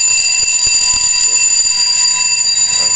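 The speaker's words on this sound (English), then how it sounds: "So, I see the alarm. It's counting down." An FM 200 fire suppression system alarm sounds continuously during its countdown, a loud, piercing steady electronic tone with high pitched components, heard alone and unbroken throughout.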